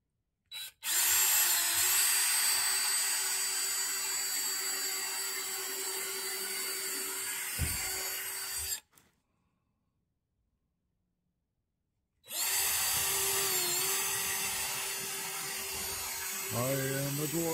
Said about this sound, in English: I'm drilling a hole